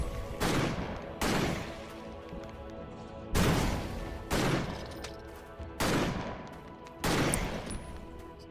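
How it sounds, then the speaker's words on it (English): Heavy shotgun blasts ring out in the Victor Vran action game, five loud booming shots at a steady, unhurried pace, each with a short decaying tail, with no talking over them. "We can really start seeing how good the shotgun is"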